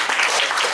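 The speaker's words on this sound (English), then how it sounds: "let's give both of them a good round of applause" Applause from the audience at a talk, a dense, steady wash of many hands clapping together, close and loud throughout the short burst.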